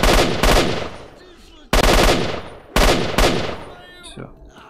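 Enemy gunfire in the shooter game S.T.A.L.K.E.R. Shadow of Chernobyl: several loud, sharp bursts of automatic fire, each sudden onset followed by a decaying echo tail, with gaps of quieter ambience between them.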